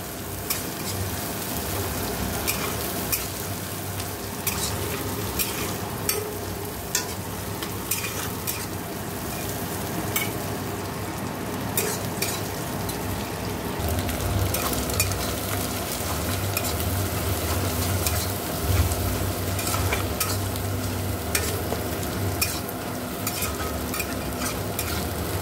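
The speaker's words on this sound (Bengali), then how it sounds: "দেখো ডিমটা ভাজা হয়ে গেছে, ও চাউমিনটা দিয়ে দেবো।" An egg fries in a pan for chowmein while being stirred, with a continuous close sizzle, frequent scraping and clicking of a utensil against the pan, and light spatters throughout.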